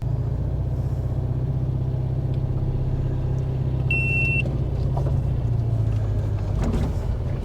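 A Subaru with a manual transmission pulls away in first gear, its engine a steady, close low rumble throughout. A short electronic beep sounds partway through.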